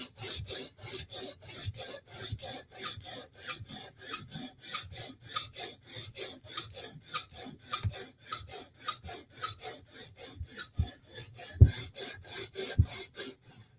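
A file rasps steadily along the bevel of a forged blade, with dozens of rhythmic back-and-forth strokes, close and fairly quiet, no talk.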